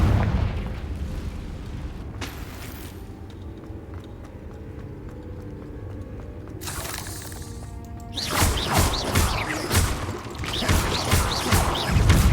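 Fire spell explosions blasting in Hogwarts Legacy, several loud booming bursts over continuous game ambience and hoofbeat-like clatter, with the heaviest impacts clustered toward the end.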